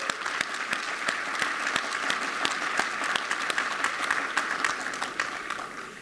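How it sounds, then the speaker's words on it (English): Steady audience applause at a foundation scholarship celebration, a dense patter of many hands clapping at even strength throughout, with no voices over it. "John, you deserve a round of applause."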